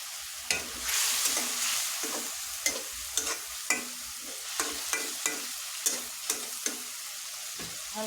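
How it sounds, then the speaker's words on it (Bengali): Fried small fish eased gently into a simmering curry: a steady soft sizzle runs throughout, broken by a regular series of light spoon-and-pan knocks. No voices. "মাছগুলো এখন আস্তে করে ছেড়ে দিব"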